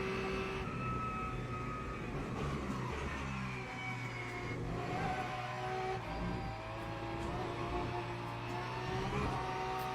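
A Porsche engine pulling hard under acceleration on a racing sim track, a continuous loud drone whose pitch climbs and dips as it shifts up, sounding close and steady.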